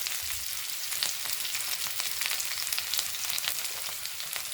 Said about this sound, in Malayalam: ഇനി വെളിച്ചെണ്ണ ഒഴിച്ചു കൊടുക്കാം. കടുക്, കൊച്ചുള്ളി അരിഞ്ഞത്,